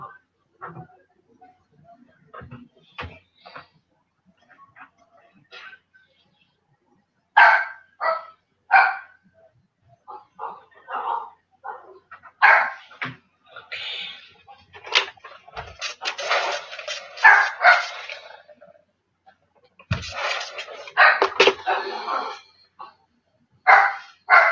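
A pet dog on a home farm barks in repeated bursts and volleys, some close and loud, others fainter, with pauses between flurries and brief quiet household clatter underneath.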